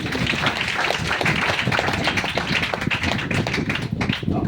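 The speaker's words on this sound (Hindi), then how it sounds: "फिर से एक जोड़ा ताली होना चाहिए।" An audience at a Patna branch meeting claps together in a dense, steady burst of applause that keeps up for several seconds with no pause.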